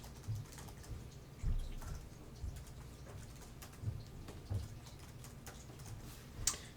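An email address is typed on a computer keyboard as soft, faint key taps in uneven clusters with a few louder clicks, over low room hiss.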